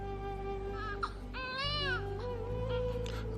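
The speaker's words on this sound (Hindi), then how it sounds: "अचानक अंदर से पूनम के रोने की आवाज आती है" A child's crying sound effect in a Hindi audio drama: wavering, high wails and whimpers in sobbing bursts over a low steady background hum, with no talking.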